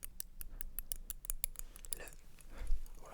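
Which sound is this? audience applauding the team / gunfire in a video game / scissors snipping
scissors snipping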